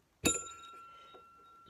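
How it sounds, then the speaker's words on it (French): A small bell is struck once, a bright clear ding that rings on and fades slowly into quiet. "J'active ma petite cloche."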